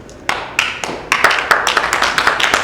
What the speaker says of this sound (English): So a big round of applause from him, even though he's not here